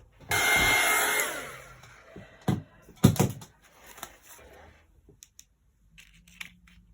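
A hair dryer blows briefly on wet watercolour paint on paper, a loud close whoosh of about a second, followed by scattered clicks and handling noises.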